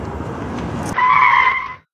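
A toy or model car skids with a sharp, sustained tire squeal that rises abruptly after a rough rolling rumble, then cuts off as the car breaks down; the sound is loud and close, with no talking.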